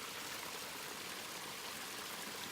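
Mountain stream crossing a trail among rhododendrons on the Appalachian Trail, a steady, close rush and trickle of water running without pause, with no voices.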